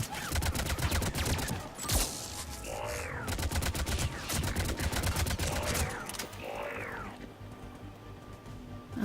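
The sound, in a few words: missile launcher firing in the video game Mass Effect 3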